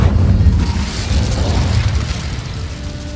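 Casting the Incendio fire spell in Hogwarts Legacy sets off a loud fiery burst, a deep booming whoosh that rumbles and crackles for a few seconds with no voices over it.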